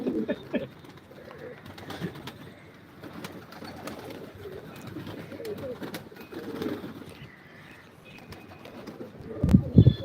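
Pigeons coo on a rooftop loft in Malerkotla, with soft, repeated low calls close by amid steady background activity and a louder burst near the end.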